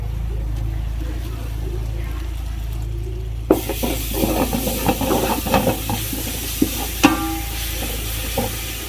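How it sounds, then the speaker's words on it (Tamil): Large batch of ginger-garlic paste for homemade biryani masala sautéing in a pan, a low hum giving way to a busy sizzle with repeated stirring scrapes and clinks up close. "இஞ்சி பூண்டு பச்சை வாசம் போக வதக்கியாச்சு"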